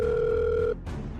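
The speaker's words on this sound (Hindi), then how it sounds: "काफी कॉल करने के बावजूद भी जीतू ने उसका एक कॉल भी नहीं उठाया।" A telephone rings unanswered in an audio drama, with a steady electronic ring tone for most of the clip that cuts off and is followed by a low background hum.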